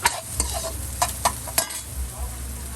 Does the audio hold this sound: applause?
no